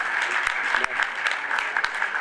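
Continuous crowd clapping at a UNI Global Union meeting, dense and even with a few sharper individual claps popping out, no voices over it.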